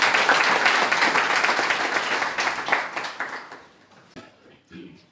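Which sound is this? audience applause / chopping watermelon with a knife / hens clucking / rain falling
audience applause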